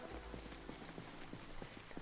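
Rain patters faintly in the video game Project Zomboid, a soft hiss with light, regularly spaced drip taps spread through the short stretch.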